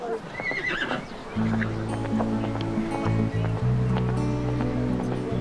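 A herd of horses crossing sand dunes at a bay, with a whinny early on, then a steady loud low rumble of movement and hooves that continues throughout.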